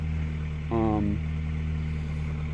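A two-wheel-drive work pickup truck idles through a stock Toyota 4Runner muffler, giving a quiet, steady low rumble throughout, with a brief tonal sound near the start.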